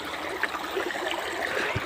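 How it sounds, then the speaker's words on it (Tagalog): Shallow, clear stream water flowing over rocks on a trail toward a waterfall, a steady babbling trickle with small gurgles, close and continuous without talk. "Nadaan muna tayo dito sa mga tubig."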